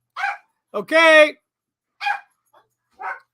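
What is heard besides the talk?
dogs barking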